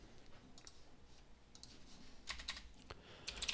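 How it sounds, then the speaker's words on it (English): Typing on a computer keyboard while entering Python code, quiet scattered key clicks with a few quick bursts of keystrokes, close and alone with no talk. "So if I type some other code here"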